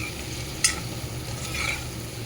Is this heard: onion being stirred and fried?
yes